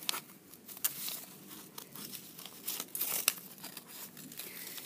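Paper being cut with scissors, close up, a run of crisp snips and rustling crinkles with brief pauses between cuts, no talking.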